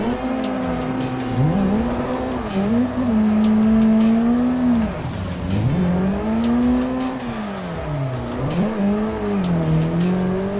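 Racing game cars drift on a mountain pass, engines wailing loudly with repeated dips and rises in pitch as they rev through corners, tires squealing now and then.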